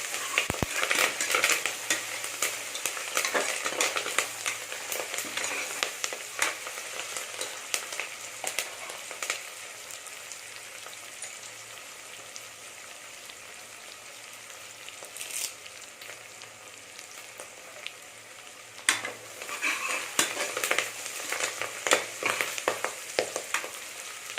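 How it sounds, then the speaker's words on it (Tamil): Onions sizzle steadily in a hot pan for mutton bone soup, with occasional scrapes and clinks of a spoon stirring, and no voices. "வெங்காயம் வதங்கிட்டு இருக்கு"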